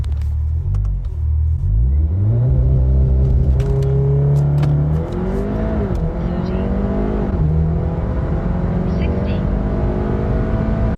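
A VW Golf R Mk7.5 on factory tune launches hard in a 0-60 run, its engine climbing through rising revs with gear changes, loud and close, with a voice talking briefly over the roar.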